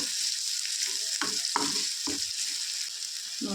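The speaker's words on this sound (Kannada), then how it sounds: "ಶುಂಠಿ ಬೆಳ್ಳುಳ್ಳಿ ಎಲ್ಲ ಚೆನ್ನಾಗಿ ಫ್ರೈ ಆದಮೇಲೆ" Ginger and garlic fry in a hot pan for a hotel-style peas kurma, giving a steady close sizzle with sharp clatters of stirring scattered throughout.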